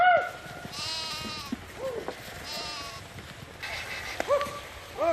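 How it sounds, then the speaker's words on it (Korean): Sheep and goats bleat repeatedly in a rocky stony valley, several overlapping calls near and mid-distance, wavering and spaced across the clip over a faint outdoor background. "돌이 많은 계곡이 나오자 당황한 양 염소들이 우왕좌왕 갈 길을 잃은 겁니다"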